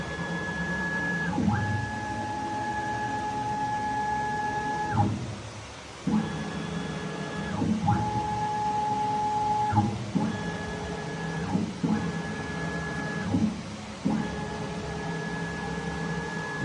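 A Langmuir MR1 CNC plasma table runs on upgraded Stepperonline DM860T digital stepper drivers, its motors whining in steady pitched tones that start and stop in repeated moves every second or two, with a background hum.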